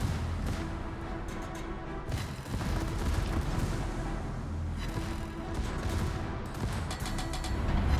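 World of Warships battleship secondary guns fire in a dense, continuous barrage of rapid booms and cracks. The volley holds strong and loud for the whole stretch with no talking over it.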